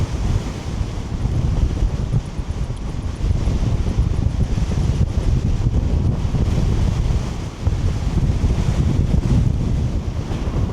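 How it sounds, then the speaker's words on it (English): A strong headwind batters the microphone of a rider on a Begode Falcon electric unicycle on a sunny day. It makes a loud, steady roar with gusty surges and no speech over it. "So I'm riding head on into the wind."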